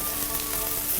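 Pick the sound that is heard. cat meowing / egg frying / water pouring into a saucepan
egg frying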